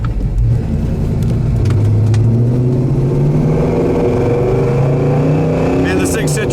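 1971 Chevelle engine accelerating hard, a loud, close rumble whose pitch climbs and then drops through gear shifts, heard from inside the car with someone talking over it.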